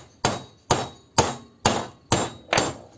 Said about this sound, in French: Il suffit juste de la taper à rentrer.